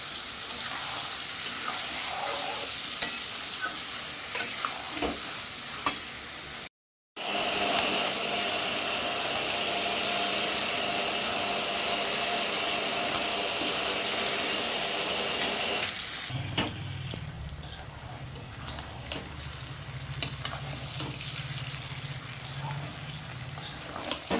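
Spiced masala with chopped tomato and a splash of water stir-fried for a Bengali katla fish curry, a steady close sizzle with scraping strokes throughout, briefly cutting out, then continuing with a lower hum beneath.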